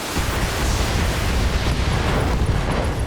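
In the video game BattleTech, a mech's ammunition explodes in a loud, sustained rumbling blast. The dense roar holds at full strength for about three seconds, with no voices over it.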